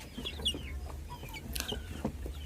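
KUB chickens cluck softly and irregularly inside a coop, several birds close by with scattered short calls over a low, steady background murmur.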